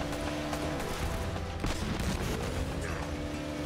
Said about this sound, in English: Except we're probably gonna die because of gunfire.